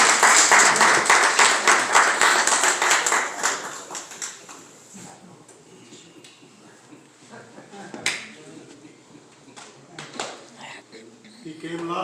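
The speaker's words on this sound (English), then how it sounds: "Let's give him a hand clap." An audience at a clergy council holiday brunch claps for a council member, a dense burst of applause at first that thins to scattered claps, with a few sharp later claps and voices underneath.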